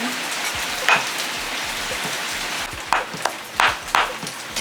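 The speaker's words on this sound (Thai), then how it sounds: "ต้อนรับพายุฝน" Steady storm rain patters on a surface nearby, with a few sharper drops and splashes standing out against the constant hiss.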